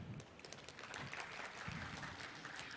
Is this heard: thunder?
no